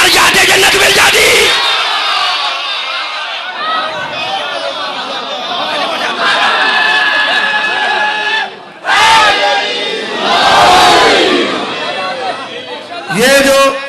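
A loud crowd of voices shouting in unison, including young children, in a religious gathering; repeated surges of massed chanting rise and fall over about fourteen seconds, with brief pauses between bursts.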